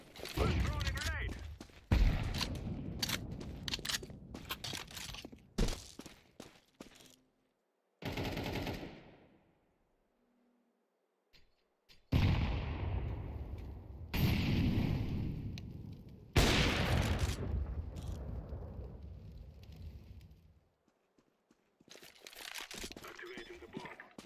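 Gunfire and a grenade blast in a shooter video game: bursts of rapid automatic fire and sharp shots separated by silent gaps, with longer booming swells, and people talking over parts of it.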